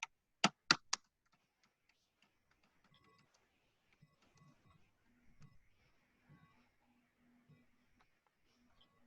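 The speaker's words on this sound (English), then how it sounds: "And I'm typing in my vote." Computer keyboard keys tapped while a vote is entered during an online club meeting: three sharp, close clicks at the start, then sparse, soft taps over a quiet low murmur.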